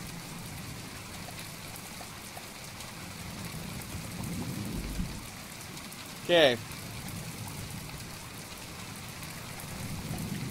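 Steady rain pours down on a surface, a continuous wash that holds through the whole stretch, with a short spoken word and a brief louder knock or click near the middle.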